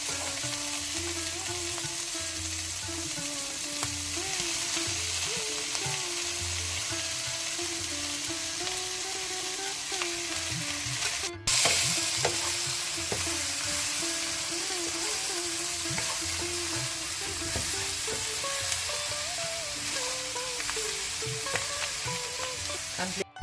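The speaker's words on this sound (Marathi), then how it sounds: "आतां पियाव भाजून आयिल्लो तो ताका आमी उकडून दवरिल्लें मास घालचें." Boiled pork frying with onions in a pan gives a steady, close sizzle with scraping stirs, holding even over the full span with one brief dropout midway and no talk.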